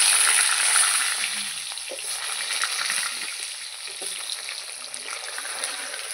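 Potatoes hitting hot oil in a pan with tempering spices and a dried red chilli, a steady close sizzle and fry hiss running throughout with faint stirring clinks, no talking.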